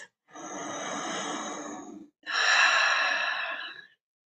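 Two long, deep breaths during a guided meditation, a slow inhale then a fuller exhale, close and clear with a brief pause between them and no talking.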